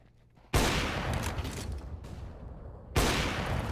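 Gunfire in Counter-Strike: Global Offensive in two loud sustained bursts of rapid shots, each starting sharply, with a brief gap between them; close and dominant, no talking.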